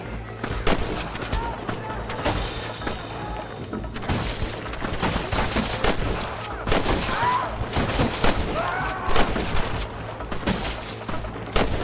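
Gunfire in the western video game Red Dead Redemption: frequent sharp shots crack in irregular succession throughout, some near and some more distant, over a steady background of game ambience with occasional voices.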